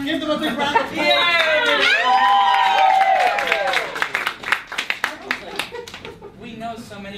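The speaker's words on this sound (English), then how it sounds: "Give them a big round of applause." A gathered audience welcomes people coming up with loud whooping, rising and falling cheers, followed by scattered, uneven clapping that thins out toward the end.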